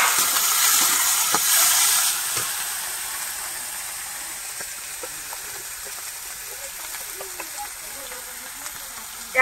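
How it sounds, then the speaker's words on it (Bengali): Onion and garlic frying in oil before crabs are added, a steady broad hiss that fades slightly over time, with faint clinks and a bit of background voice. "পেঁয়াজ রসুনটা ভাজা হয়ে গেছে, এখন এর মধ্যে কাঁকড়া গুলো দিয়ে দেবো।"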